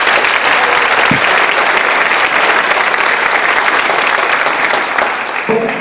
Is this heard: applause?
yes